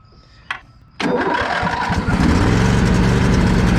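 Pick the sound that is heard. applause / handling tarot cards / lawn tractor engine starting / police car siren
lawn tractor engine starting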